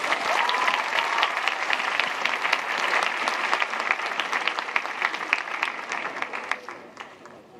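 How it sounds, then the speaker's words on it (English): Sustained applause from a large crowd at Pope Francis's 2024 visit to St Theresa's Home in Singapore, dense clapping throughout that gradually thins and fades out near the end. "Round of applause."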